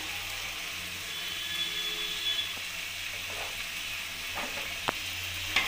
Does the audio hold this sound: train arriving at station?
no